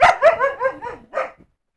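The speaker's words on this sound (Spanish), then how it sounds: "se escucha elementos naturales de audio, como es un perro ladrando" A dog gives a quick run of loud, close barks and yips, then one final bark before silence.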